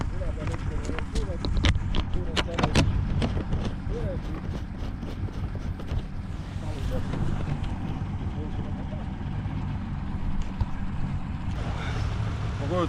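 The motor of an old, rusty boat idles with a low, steady rumble, mixed with wind noise while people talk nearby.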